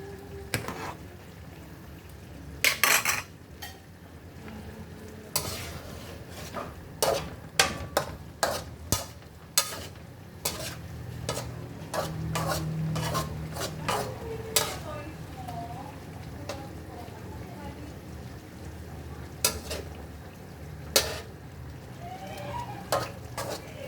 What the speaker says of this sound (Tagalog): Halu-haluin para hindi magdikit-dikit